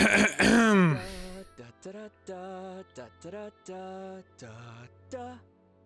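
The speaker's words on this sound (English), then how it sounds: "Clear his throat" A Genshin Impact character's loud throat clearing opens, followed by a series of short sung or hummed tones in steady, evenly spaced bursts.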